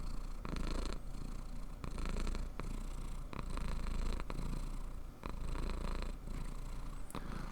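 A pet cat purrs continuously while being petted, a close, steady rumbling purr with rhythmic breathing pulses about every second, and no talking over it.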